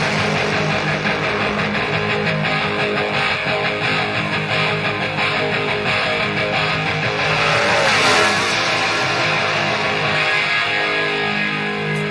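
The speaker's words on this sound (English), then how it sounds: "At the end of the song, we have a motorcycle speeding off" A motorcycle roars away at speed, lifted from a song, its loud, dense engine noise filling the whole stretch and swelling briefly before carrying on without talk.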